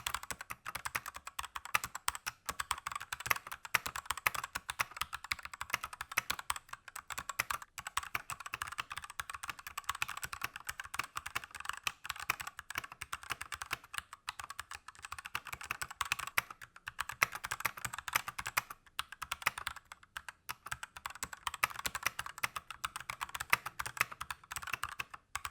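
Typing on an AJAZZ K870T hotswap mechanical keyboard modded with foam and lubed stabilizers, a steady, dense stream of rapid thocky keystrokes close up for about twenty-five seconds, with only brief uneven pauses.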